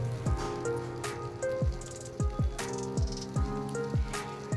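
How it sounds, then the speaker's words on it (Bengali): Split pointed gourd (parwal) pieces fry in hot oil, giving a close, busy sizzle with frequent popping spatters and crackles spread irregularly throughout. "তেল গরম হয়ে গেছে, এরপর আমি মাঝখান থেকে চিড়ে রাখা পটলের টুকরোগুলো অ্যাড করে দিলাম।"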